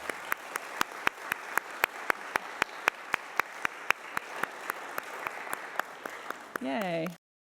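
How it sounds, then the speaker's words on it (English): Audience applause at a 2019 New Day Rising event, a crowd clapping in a steady, evenly spaced rhythm for several seconds, ending with a brief cheering voice. "So can we give another round of applause to that work?"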